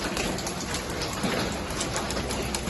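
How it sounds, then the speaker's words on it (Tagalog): Steady rain falls outside a home during bad weather, a dense, even hiss of drops with faint scattered taps and no voices, moderately quiet and constant throughout. "Okay, ulan lagi."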